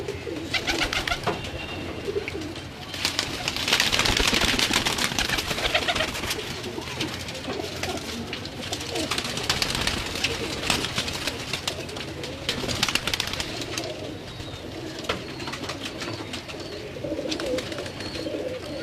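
A flock of rare Salara Teddy pigeons in a Lahore loft keeps up a continuous chorus of low coos and rolling throaty calls, near and fairly loud, with scattered wing flutters and no talking.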